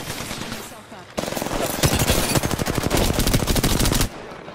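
Loud, rapid automatic gunfire from an Apex Legends ranked match rattles continuously for about three seconds after a quieter lead-in, then cuts off abruptly.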